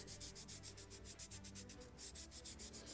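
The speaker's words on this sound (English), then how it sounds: "Now slight sanding," Sandpaper rubbed back and forth on a thin wooden plank of a model ship hull, the 1776 gunboat Philadelphia, in quick even strokes, close and fairly quiet with a brief pause near the middle.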